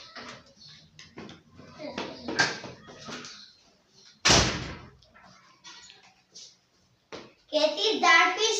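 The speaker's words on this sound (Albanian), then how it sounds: "Tak, dera troket" A single sharp knock or bang on a door, used as a story sound effect, lands mid-clip between stretches of a voice speaking.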